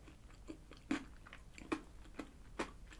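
Someone bites into ice cream with yellow sweet corn and cream-coloured parmesan cheese layers studded with corn crunch balls, giving a few close, soft crunching bites and chewing spread across the moment, with no talk.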